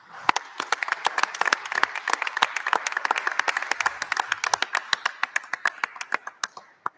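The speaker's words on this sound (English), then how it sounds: "That needs a round of applause" Applause for retiring teachers at a public school event, starting as steady clapping from an audience and thinning out toward the end until only a few separate claps remain.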